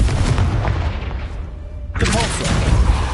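Confringo fire blast spell from Hogwarts Legacy, a loud booming burst with a dense crackling blast, briefly dropping away before a second forceful burst of noise.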